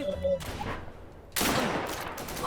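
Gunfire in the online survival shooter Deadside: a short burst of shots near the start and then a longer sustained volley of rapid fire, with people talking in Thai over the game sounds.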